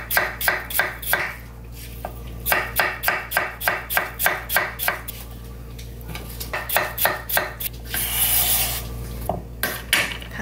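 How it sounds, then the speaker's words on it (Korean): A knife chops a pear into similar-sized pieces on a cutting board for fruit water kimchi, giving bursts of quick, sharp, evenly spaced thuds separated by brief pauses, close and clear with no talking. "배도요, 좀 사이즈 비슷하게 맞춰서 잘라 놓겠습니다"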